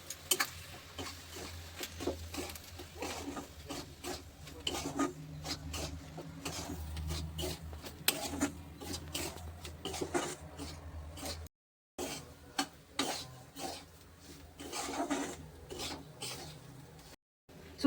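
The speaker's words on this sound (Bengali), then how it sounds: "এর মধ্যে এখন সুজিটা ঢেলে হালকা ভেজে নেব।" Semolina lightly frying with vegetables in a pan for upma, giving a steady raspy scraping and sizzling texture with frequent stirring clatter, close up and continuous, with a brief pause near the end.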